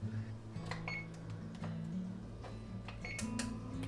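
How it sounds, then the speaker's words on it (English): Home kitchen oven being set to 450 degrees for roasting a whole chicken, a few short electronic control panel beeps over a low steady hum, close and fairly quiet. "I'm going to go ahead and turn my oven on to 450 degrees"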